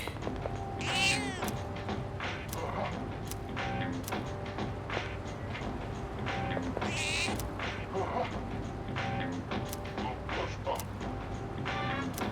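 A cat meowing in the video game Persona 3 Reload, a few short mews repeating over steady game background music, with no talk.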